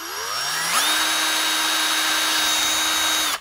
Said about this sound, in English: I'm just going to drill right in the middle.